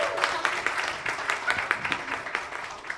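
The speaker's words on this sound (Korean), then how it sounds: "큰 박수로 맞아주십시오." Applause from an audience at a university history department's 70th anniversary talk concert, welcoming a student council president to the stage; moderate, steady clapping with faint voices underneath.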